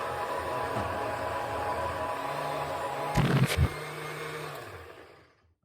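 An old kitchen blender whirs steadily, chopping red cabbage in room-temperature water, a continuous rough motor drone with a brief louder surge midway before it winds down and stops.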